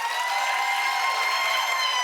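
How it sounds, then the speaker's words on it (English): A TV talk-show studio audience claps together with a few voices raised, a steady, even wash of applause that holds at one level for the whole moment. "Clap if you think it ought to be Damani."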